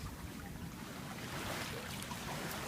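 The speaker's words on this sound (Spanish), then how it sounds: "las olas son bien apacibles" Gentle, calm ocean waves lap steadily at a mangrove shore, a continuous soft wash of water with a faint breeze, close and even throughout.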